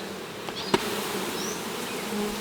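A steady, droning buzz of many honeybees from a hive being split fills the air close by, with a single sharp tap partway through and no talking.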